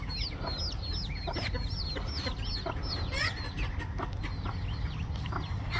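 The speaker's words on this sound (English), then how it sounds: "this is the hen that is part Cochin" A part-Cochin hen clucks repeatedly on a farm, with other chickens chirping and clucking close by in a steady, busy barnyard chorus throughout.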